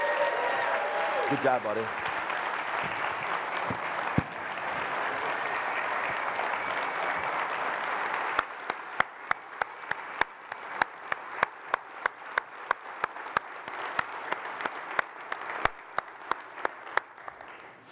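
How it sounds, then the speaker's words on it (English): Sustained audience applause at a township State of the Township event, broad and steady for several seconds before thinning into scattered, sharp individual claps; a voice speaks briefly near the start. "Let's give Tim a round of applause."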